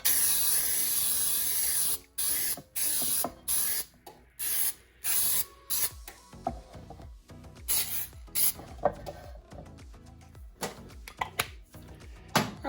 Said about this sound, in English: I'm going to spray with pan baking spray.